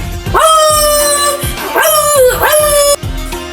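A voice imitates a dog, giving several loud, drawn-out barking howls in quick succession, close and clear.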